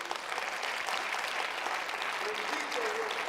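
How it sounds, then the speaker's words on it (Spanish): A congregation applauding during a church service, with dense, steady clapping at moderate distance under a faint background voice. "Denle un aplauso a Dios."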